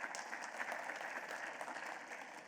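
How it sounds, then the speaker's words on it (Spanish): Applause rises from a conference audience welcoming a speaker at a sports talk on CBD use, a steady, fairly faint patter of many hands that holds evenly throughout without any voice over it. "un aplauso para él"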